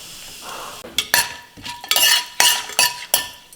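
Whole spices (cloves, cardamom, cinnamon and a bay leaf) fry in hot oil in a pan for spinach pulao, a soft sizzle punctuated by repeated sharp clinks and scrapes of a metal spoon against the pan.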